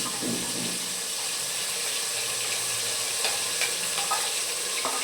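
Ground garlic, onion and turmeric paste frying in hot oil for a mutton dry fry curry, a continuous even sizzle with a few faint clicks of stirring near the end.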